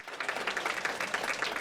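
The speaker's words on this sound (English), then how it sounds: "Zoe, The pain keeping her from smiling but not clapping for the cheerleaders that stopped in to lift her up" Steady applause from a small group cheering on visiting cheerleaders at a child's bittersweet no-chemo party, a continuous patter of overlapping hand claps held at an even level for the whole moment.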